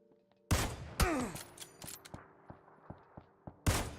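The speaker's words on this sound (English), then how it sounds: "I heard gunshots up the hill" Video game gunfire: several loud sharp shots, then a string of quieter distant pops, with another loud blast at the end.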